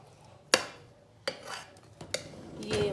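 Chicken biryani being mixed in a heavy pot, with several sharp metallic clanks of a spoon against the pot spaced about a second apart, plus soft scraping between them, close and fairly quiet.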